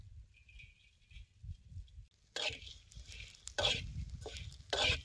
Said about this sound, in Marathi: आता ह्या तव्यात ही झिंग जरा भाजून घ्यायचं.